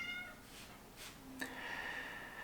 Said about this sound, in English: You may hear my cat in the background because he really, really wants to get in this room.